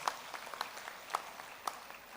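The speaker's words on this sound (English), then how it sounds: "A big round of applause to all the conveners and the committee members." Faint, scattered clapping from a distance at a medical college silver jubilee celebration, a few sharper claps standing out over a soft background.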